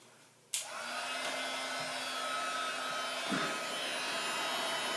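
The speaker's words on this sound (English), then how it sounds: "I'm gonna heat it up with my embossing heat tool" An embossing heat tool switches on with a sharp onset and then blows a steady, loud, close whirring rush of hot air over embossing powder on a handmade card, with no talking.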